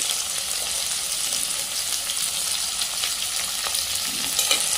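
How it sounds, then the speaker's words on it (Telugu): Green chillies and onions frying in a pan after mustard seeds, a loud, dense and steady sizzle with scattered crackles and faint stirring, close up with no talk. "పచ్చిమిర్చి తర్వాత వెంటనే ఉల్లిగడ్డ వేసేయాలి"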